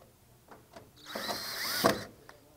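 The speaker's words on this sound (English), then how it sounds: "Screw that in there." A power drill drives screws into a door strike plate on a vertical rod panic device install, with short close bursts of whirring and ratcheting between quiet gaps.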